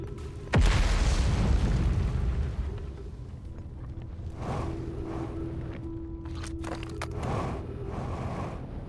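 A loud, deep boom bursts out as the gravity cannon fires in the video game Outer Wilds, then settles into a long rumbling roar with softer whooshing swells and faint game tones.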